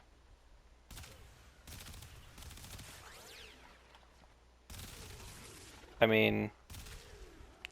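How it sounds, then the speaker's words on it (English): Bursts of Incarnon Boltor fire in Warframe, firing shotgun-like pellets, come in several separate volleys of rapid crackling shots, mixed with game effects and a brief spoken remark. "it's actually like a shotgun where it's firing about 5 pellets per shot"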